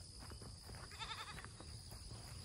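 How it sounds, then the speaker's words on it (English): A goat on a farm gives a short, quavering bleat in the middle, close by, over a low rumble of background noise and faint shuffling. "Getting them goats."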